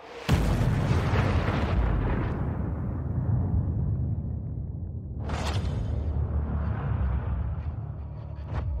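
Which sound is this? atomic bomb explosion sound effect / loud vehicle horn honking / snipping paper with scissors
atomic bomb explosion sound effect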